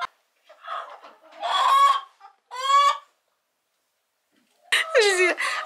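Chickens inside a chicken house on an icy upstate farm give several close, loud bursts of clucking and squawking, broken by short silences.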